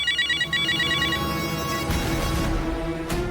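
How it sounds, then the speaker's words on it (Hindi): A mobile phone ringtone plays a repeating electronic melody in a short rhythmic pattern, then breaks off as other indoor sounds take over. There is no speech. "किसका फोन है?"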